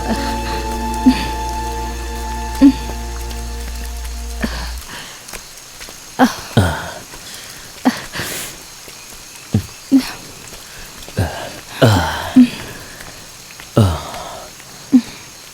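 Rain falls steadily with scattered heavier drops tapping a surface at irregular intervals, while a tonal drone sounds during the first few seconds.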